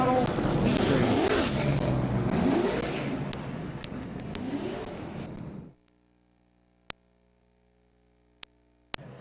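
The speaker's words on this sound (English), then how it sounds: "it's 8 laps around Midvale Speedway for our late model heat race" Late model race cars roar around Midvale Speedway in a heat race for about five seconds, engines droning and revving loud with a voice talking over them, then the roar cuts out to near silence broken by a few sharp clicks.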